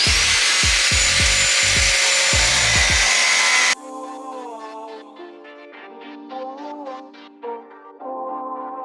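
Power tool cutting into the outer body skin of a Tesla Model 3 widebody build: a loud, harsh grinding roar with rhythmic pulsing for a few seconds, which then stops abruptly, leaving quieter tonal hum and clatter.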